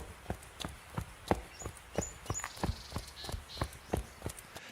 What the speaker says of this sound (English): the footsteps kind of sounded rhythmic